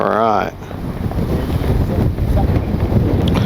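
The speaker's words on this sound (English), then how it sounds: "boy is it windy today" Strong wind buffets the microphone at a radio-controlled model airfield, a loud, continuous low roar that gusts unevenly throughout.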